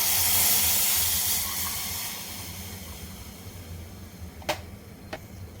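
Horse gram batter poured onto a hot tempering in a pan gives a loud, broad sizzling hiss that gradually fades, followed by two sharp clicks near the end.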